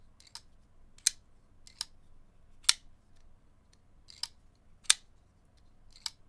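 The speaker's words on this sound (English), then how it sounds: "That's really loud bearing rattle, but it's not affecting the action." Sharp, sparse clicks and rattles from a Spyderco Amalgam folding knife as its bearing pivot is flicked, roughly seven crisp close-up snaps scattered over a quiet background.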